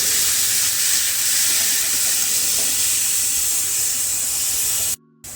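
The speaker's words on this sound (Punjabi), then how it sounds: "ਤੇ ਹੁਣ ਪਾ ਦਵਾਂਗੇ ਜੀ ਆਪਾਂ ਪਿਆਜ਼ ਪਿਆਜ਼ਾਂ ਨੂੰ ਮਿਕਸ ਕਰ ਦਵਾਂਗੇ" Onions are stirred into a pan of bitter gourd cooked with sour green mango, giving a loud, dense, continuous sizzling hiss close up that cuts out abruptly near the end.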